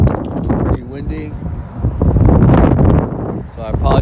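Strong wind buffets the microphone at a lakeside beach fishing spot, a loud continuous roar with gusts rising and falling, while people talk over it.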